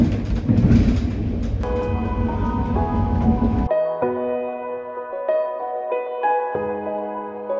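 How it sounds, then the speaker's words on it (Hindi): A train waits at a station on a Kolkata to Bangalore journey. A loud, low rumbling roar runs first, then cuts off into a quieter stretch of ringing, tonal chimes and hum. "ट्रेन छोड़ने वाली है"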